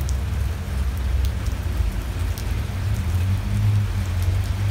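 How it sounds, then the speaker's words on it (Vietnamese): Steady rain in California after a hailstorm has eased, a dense close patter on surfaces with a low rumbling undertone, continuous and fairly loud, no voices. "vẫn trời đang còn đang mưa nhưng mà không phải là mưa đá nữa các bạn ơi"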